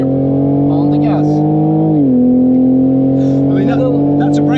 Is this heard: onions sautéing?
no